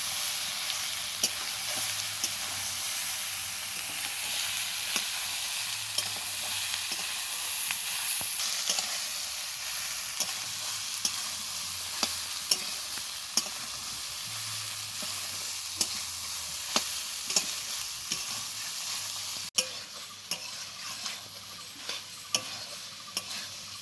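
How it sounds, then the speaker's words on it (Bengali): Marinated soybean chunks frying slowly in a pan, with a steady bright sizzle throughout and occasional light ticks and scrapes of a spoon stirring them. "এবারে কিন্তু সয়াবিনটাকে বেশ খানিকক্ষণ টাইম নিয়ে আস্তে আস্তে কষিয়ে নিতে হবে খুব ভালোভাবে"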